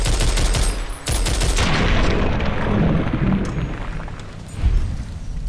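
Dense gunfire from the video game Fallout: New Vegas, Lonesome Road DLC, heard as a loud, continuous burst of rapid shots and booming impacts with no pause, close and alone.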